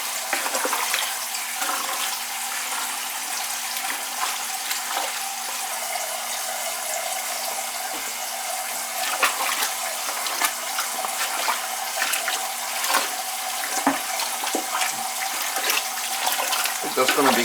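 Tap water runs steadily into a pot for a vegetable and kale soup, a continuous splashing hiss close by with small clinks and knocks along the way.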